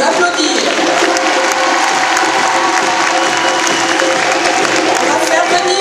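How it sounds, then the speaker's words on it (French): Audience applause at a dance gala, dense and steady clapping from a large crowd filling the room at full volume without a break, with no speech audible over it. "on peut les applaudir"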